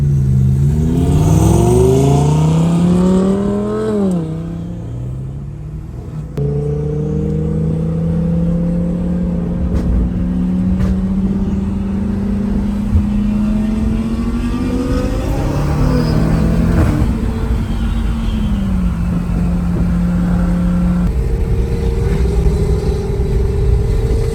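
A McLaren 720S sports car driving at night, its engine loud and close from inside, with repeated revving climbs, gear changes and sustained acceleration pulls, and no talking.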